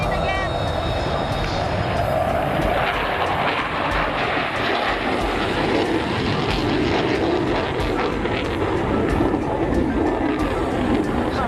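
Aircraft roaring overhead at the Waddington air show, a loud sustained engine wash that fills the whole stretch, with voices talking beneath it.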